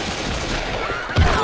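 Gunfire from the Left 4 Dead 2 video game on The Parish campaign: a dense, loud barrage of close shots rolls continuously and ends in a heavier burst.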